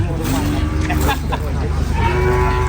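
Cattle lowing at a Thai cattle market, several moos rising over constant crowd noise and background chatter, with people talking nearby.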